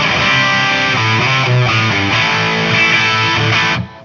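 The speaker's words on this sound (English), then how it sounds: "You can hear the delay coming after." Distorted electric guitar played through a PT100 amp with stereo echo delay, a loud sustained chordal phrase whose repeats trail behind the notes before cutting off near the end.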